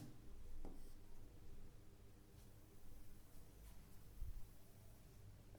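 Chalk or marker scratching across a classroom blackboard in quiet, steady strokes with light rustling and a low background hum, faint and continuous with no talk.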